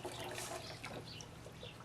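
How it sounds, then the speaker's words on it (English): Water flows back through a pipe into the main tank of a home aquaponics system, making a steady faint trickle and splash that goes on without pause and has no voices over it. "The water re-enters the main tank through this pipe"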